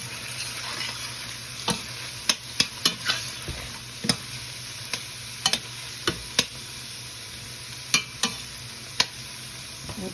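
Pepper and shallot frying in a pan, a soft constant sizzle near at hand, broken by intermittent knocks and scrapes of a utensil stirring.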